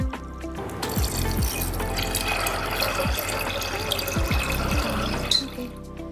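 Water pours steadily from a glass into a pot of soaked lentils, kidney beans and chickpeas for dal makhani, with a close, continuous splashing gurgle and a few brief clinks, and no talking.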